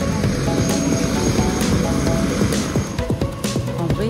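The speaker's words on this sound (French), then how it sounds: "Il a commandé l'hélicoptère." Helicopter in the mountains, a loud, close, continuous engine drone with a choppy rotor rhythm that holds steady throughout, no one speaking over it.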